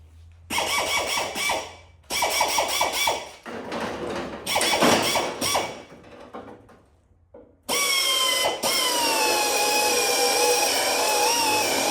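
Loud power drill whirring in several bursts while drilling out spot welds on a 1969 GMC crew cab, starting and stopping with gaps, then a long continuous high-pitched drilling whine at the end.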